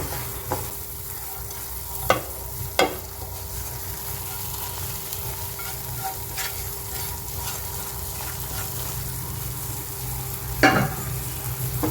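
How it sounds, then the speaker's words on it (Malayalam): Masala sizzles steadily in a hot pan while a spoon stirs it, with a few sharp scraping knocks against the pan over a soft continuous frying hiss. "ഇനി ഇതിലേക്ക് നമ്മൾ മാറ്റി വെച്ച മസാല ഇതിലേക്ക് ഇട്ട് കേട്ടോ"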